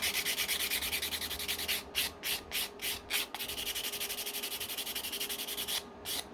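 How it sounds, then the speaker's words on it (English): Plastic model kit part for a Johnny 5 toy, its edge sanded flat: rhythmic scraping strokes, loud and close, with a few short pauses between bursts. "So we want to turn, this is the opposite one, so we want to sand this edge here. So we'll sand that nice and flat."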